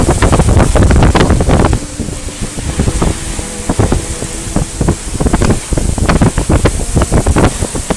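Heavy storm wind in Brazil roars and gusts in loud bursts with rain, battering the microphone with rushing, crackling noise.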